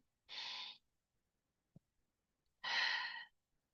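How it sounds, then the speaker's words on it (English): Two deep, breathy breaths taken during a guided meditation, close and clear, separated by a pause with a faint tap, with no talking in between. "take a deep breath"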